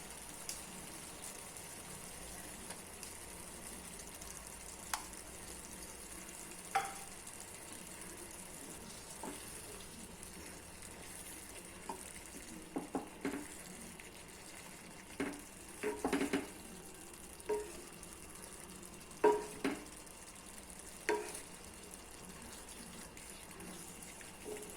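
Eggs are added to tomato masala simmering in oil and stirred. A faint, quiet sizzle runs underneath, broken by scattered clicks and scrapes of a spoon against the pan.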